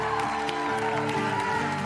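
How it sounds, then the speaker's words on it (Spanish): Studio audience on a TV show applauding for Úrsula Corberó, a dense, even patter of clapping with faint cheers, steady and close for a short stretch. "La que despedimos con un aplauso enorme"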